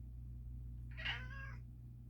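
A single cat meows once, a short, clear drawn-out call at moderate volume over a steady low hum in a quiet indoor space.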